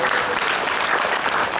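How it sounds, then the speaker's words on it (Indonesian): Dense, steady audience applause fills a hall during a humorous health talk by Dr Agus Ali Fauzi in Denpasar, Bali, in 2019. It is loud and continuous throughout the short burst. "Tepuk tangan."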